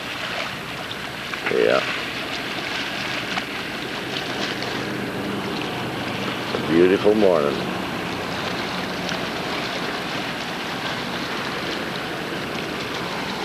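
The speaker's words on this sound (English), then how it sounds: "we get the sound of the waves maybe" Water lapping near the Skyway bridge on a morning outing, a steady washing roar dominated by wind buffeting the microphone, with someone speaking briefly over it.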